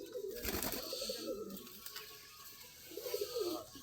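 Fancy cross pigeons coo nearby in soft, throaty rolling bursts, one at the start and another near the end, against a steady background hum.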